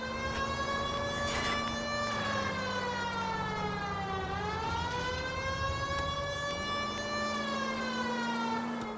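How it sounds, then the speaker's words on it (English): A police car siren in the video game L.A. Noire wails continuously, its pitch sweeping slowly down and back up, loud and close with a steady engine hum underneath. "we'll shut the siren off here"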